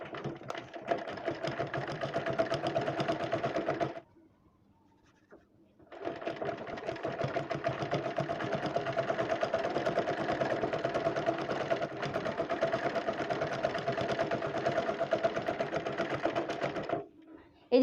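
A sewing machine stitches the elastic waistband of small baby pants, running steadily for about four seconds, pausing briefly, then running again for a long continuous stretch, loud and close, with no talk.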